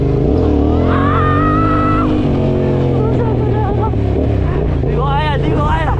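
Motocross motorcycle engine revving and droning steadily on a race track in Salcedo, loud and close throughout, with pitch rising and falling as the rider works the throttle, under occasional voices.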